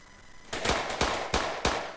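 Rapid bursts of gunfire from a GTA video game, several sharp loud volleys spaced about every half second after a short quiet start.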